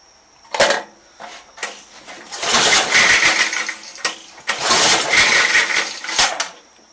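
An Ariens snowblower engine with a carburetor needing work runs roughly, surging in loud, ragged bursts of sputtering mechanical noise separated by brief drops, close by with no talking.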